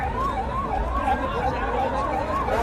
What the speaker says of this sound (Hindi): भैया ये एम्बुलेंस को निकलने दीजिए प्लीज